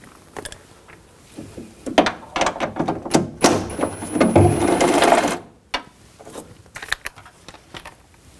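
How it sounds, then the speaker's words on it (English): A 10mm socket on a ratchet works loose the window regulator nuts inside the door of a 2000-2006 BMW X5, giving quick clicking ratchet strokes and metallic rattles up close, with no talking. "Now we're going to take the nuts out for the window regulator. Use a 10mm socket."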